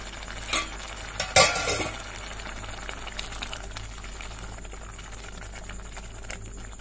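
Watermelon rind halwa with added milk cooks in a pan, a faint low simmer under a few scraping stirs near the start, then quiet bubbling.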